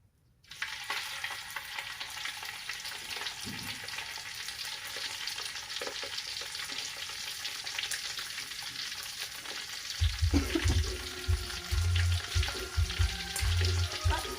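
Dried beef fries in a pan with a steady, dense sizzle and crackle, and stirring scrapes and rattles grow louder near the end.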